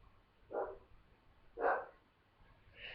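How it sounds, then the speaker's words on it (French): A dog barks downstairs, three separate muffled barks spaced about a second apart, moderately loud and slightly distant, with no talking over them. "Désolée pour les aboiements, c'est mon chien qui est en bas"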